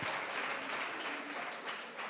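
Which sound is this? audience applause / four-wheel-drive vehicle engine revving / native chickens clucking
audience applause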